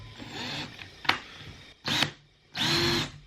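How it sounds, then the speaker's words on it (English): A power drill with a 5/16-inch bit whirs in short bursts boring a pilot hole for an ATV cart: a quick blip, then two longer runs of a couple seconds, with quiet gaps between. "I'm going to use a 5/16 drill bit here and just kind of do a pilot hole."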